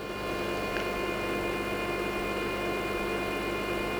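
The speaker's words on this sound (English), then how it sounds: "we're going to let it feed the filament in" Geeetech E180 3D printer feeding its supplied test filament, a steady even hum with faint whine and no talk, unchanging across the whole stretch.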